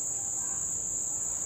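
A steady, shrill chorus of crickets rings on without pause, loud and close, over a faint low hum and no speech.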